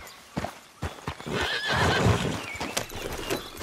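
A horse in Red Dead Redemption 2 gives a loud whinnying neigh amid close hoof clops and snorts, with a few sharp hoof strikes before and after the call.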